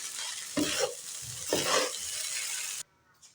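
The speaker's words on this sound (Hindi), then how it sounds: "तो दोबारा से इसको मिक्स करते हैं।" Rice with green chilies and fried egg gets stirred in a hot pan, two long scraping strokes over constant sizzling, loud and close, before the sound cuts off abruptly.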